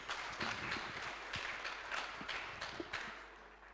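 A church congregation applauds at a testimony service, a dense wash of clapping hands that stays fairly even and somewhat distant for a few seconds with no speech over it.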